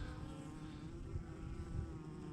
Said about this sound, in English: Some of my favorite bees, my Exeter bees, dragging out a whole bunch of dead here